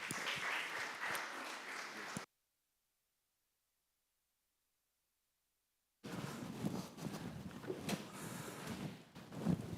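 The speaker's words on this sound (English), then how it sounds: "Give yourselves a round of applause." Audience applause at a business summit, broad and steady, in two stretches split by a few seconds of near silence.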